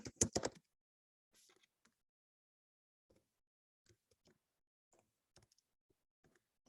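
Sparse, faint clicks of keys on a computer keyboard, a quick cluster of louder taps at the start, then scattered light keystrokes with long gaps between them.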